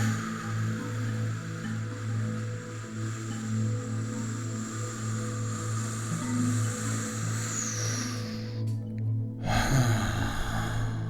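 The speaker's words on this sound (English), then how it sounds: "Long, slow, deep breath in again" Slow, deep breathing in and out during a guided meditation, a soft airy breath sound over a steady low hum, ending in a brief louder gust.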